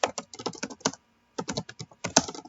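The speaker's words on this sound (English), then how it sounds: "I'm going to start actually typing this out." Rapid keystrokes on a computer keyboard, close and crisp, come in two bursts of quick irregular tapping separated by a short pause, with no voices.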